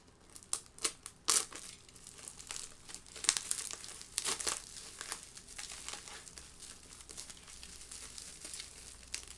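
Plastic and cardboard packaging around an RX Vega 64 8 GB graphics card crinkles and rustles close up in quick irregular bursts, with occasional sharper tearing snaps and no talk.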